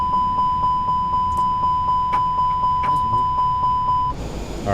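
Rapid, evenly spaced cockpit warning beeps in Microsoft Flight Simulator 2020, a steady repeating tone lasting about four seconds before a burst of broadband noise cuts in and the beeping stops.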